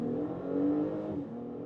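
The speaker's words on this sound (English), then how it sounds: "Dynamic mode, once again, let's accelerate out from, let's say, 40 to 80." An Audi Q5 or SQ5 six-cylinder in dynamic mode accelerates from 40 to 80 km/h, a steady engine drone rising in pitch, heard from inside the cabin at moderate loudness with no talk.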